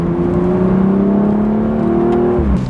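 A BMW M Performance convertible with a turbocharged six-cylinder engine drives along a winding dike road, its smooth, loud engine drone holding steady close by before easing off near the end.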